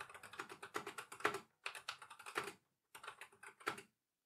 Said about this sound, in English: this thing feels nice to type on